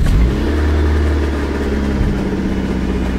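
Rebuilt car engine, freshly fitted with its valve cover, catches and fires up, then revs briefly before settling into a rough idle, loud and close with no voices.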